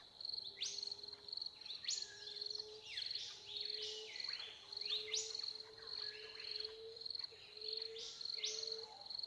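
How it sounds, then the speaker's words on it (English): Birds sing in a clear series of bright whistled phrases and chirps, repeating at an unhurried pace over a faint steady insect-like hum, with no voices. "as you hear the birdsong, just let your natural breath settle almost."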